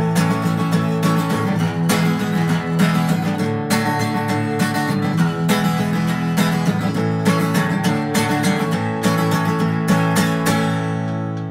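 Rhythm guitar strumming the last verse of a song, loud and driving, with dense repeated chord strokes in a steady swaying rhythm throughout.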